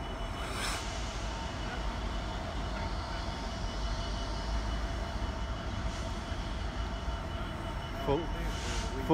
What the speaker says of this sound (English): got a class 66 GBRF freight coming through the sidings of Leicester station